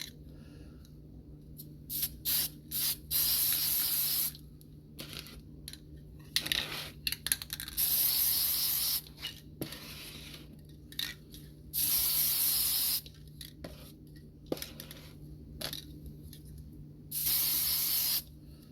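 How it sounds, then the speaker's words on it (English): Bursts of aerosol spray paint in gloss black coat bicycle parts, several hissing passes of one to two seconds each, close and fairly loud, separated by quiet gaps with small clicks and handling noises. "Time to hit it with the gloss black paint."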